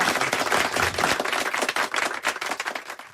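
A crowd bursts into sustained applause, dense overlapping hand claps heard steadily and loudly throughout with no speech over them.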